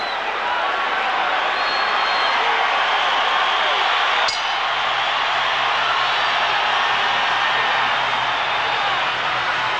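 A boxing crowd at Oscar De La Hoya versus Ike Quartey keeps up a steady, loud roar of cheering and murmur for the whole stretch, with a brief sharp click partway through and a low hum underneath.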